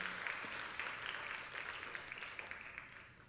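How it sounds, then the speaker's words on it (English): Audience applause at an awards keynote event, a moderately quiet wash of clapping that thins and fades gradually, with no talking. "Big round of applause, please"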